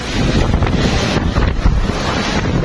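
Cyclone winds in the Philippines blowing at 230 km/h, a loud, steady roar of gusting wind buffeting the microphone with surging, surf-like noise throughout and no speech.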